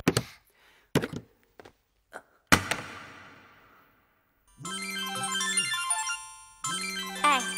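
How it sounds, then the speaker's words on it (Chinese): A mobile phone ringtone plays a bright electronic melody in two loud bursts after a few sharp thumps and a short quiet gap, with no one speaking. "哎，接电话。"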